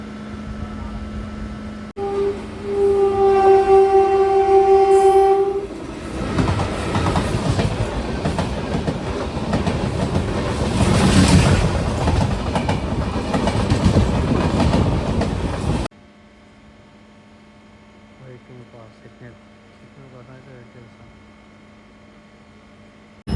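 A passenger train running from Tiruvannamalai to Tirupati sounds a brief horn, then rumbles loudly along the rails for about ten seconds with steady clatter before dropping abruptly to a quiet background.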